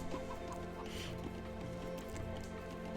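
Chickens in the Age of Empires real-time strategy game cluck softly and sporadically, faint against a steady low background hum.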